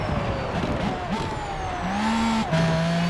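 Car braking in the racing video game Forza Horizon 4, with engine pitch dropping and rising in steady sweeps and a sustained tonal whine, loud and continuous with no talk over it.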